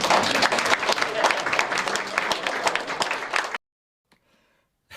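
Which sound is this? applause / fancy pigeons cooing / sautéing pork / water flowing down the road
applause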